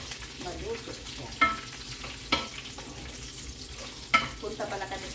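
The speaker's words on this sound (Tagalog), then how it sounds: "Ipa-brownish ko lang kung yung bawang para maluto siya." Chopped garlic frying and browning in a pan for breakfast fried rice, a steady close sizzle broken by a few sharp scraping clatters of a utensil stirring against the pan.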